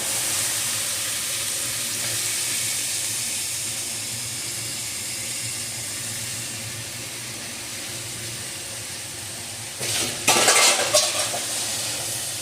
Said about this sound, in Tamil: இப்போ கத்திரிக்காய் நல்லா வதங்குற அளவு இதை விட்டு விட்டு நம்ம வதக்கிட்டே இருக்கணும்